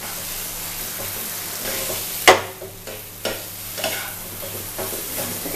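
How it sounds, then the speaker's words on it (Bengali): Ground chana dal paste fries in oil under a soft, steady sizzle, broken by sharp scrapes and knocks of a spoon stirring it, one louder clatter early on. "ছোলার ডালটাকে এই তেলের সাথে আমি ভালো করে একটু জলটা শুকিয়ে নেওয়া পর্যন্ত শুকনো করে নেব"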